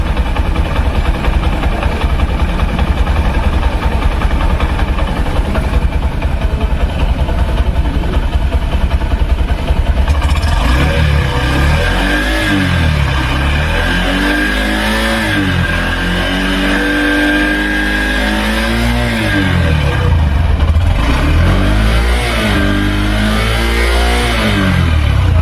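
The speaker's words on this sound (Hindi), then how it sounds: "अब आप इस बाइक के इंजन का साउंड सुनिए और इसका एग्जॉस्ट नोट भी सुनिए" A small 125cc motorcycle engine putters at idle close by, then revs up in several rising and falling bursts, loud and alone.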